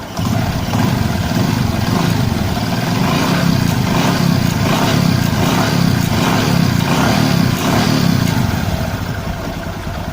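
Honda Megapro motorcycle engine, just after a cam chain tensioner repair, revving up and running in a steady, loud, close buzzing drone for about ten seconds with no one talking.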